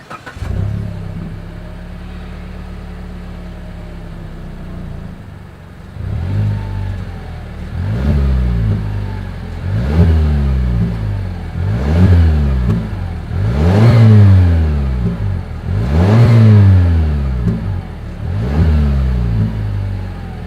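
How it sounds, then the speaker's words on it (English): A 2020 Mazda CX-5 with dual exhaust idles, then revs in a series of about six quick throttle blips, each rising and falling, recorded close to the tailpipes with no talking. "As always, here is that exhaust clip."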